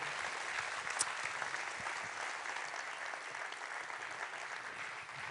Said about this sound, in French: Approchez-vous pour quelques applaudissements,